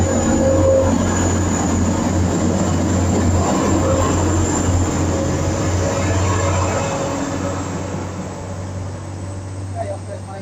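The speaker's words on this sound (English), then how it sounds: "Right now is the Liverpool Lime Street service, TPX." A TransPennine Express train bound for Liverpool Lime Street moves through Durham station with a loud, steady rumble and a high whine. The noise fades gradually toward the end.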